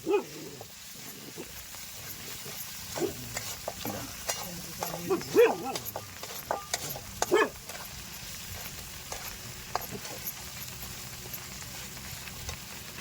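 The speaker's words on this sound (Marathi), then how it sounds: "आता हे वाटण तळून द्यायचं आणि मग कारलं टाकायचं आपलं वाफलायला." Ground spice paste (vaatan) frying in a hot kadhai before bitter gourd goes in, a steady sizzle under scattered scraping stirs, with brief dog barks nearby.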